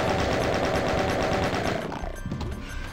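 The chaingun in Doom fires a loud, rapid, even stream of shots that tapers off and fades near the end, leaving a faint rumble.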